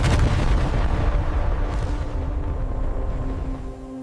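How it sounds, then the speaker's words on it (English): A missile launching, a loud sustained roaring rush with deep rumbling low end that holds steady for about four seconds before easing slightly, heard alone with no voices. "Somewhere in the world, right now, a missile is launching."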